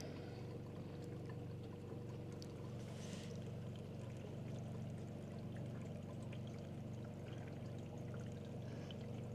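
A tiny off-grid countertop dishwasher filling with water, a steady rushing and pouring wash with a low hum beneath and faint clicks, continuous and fairly quiet for several seconds with no voices.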